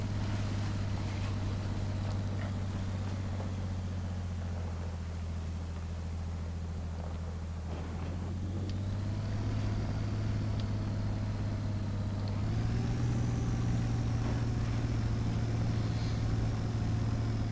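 Truck engines in the SpinTires video game drone steadily and loudly, shifting pitch upward at intervals as the load changes, with no talk over them.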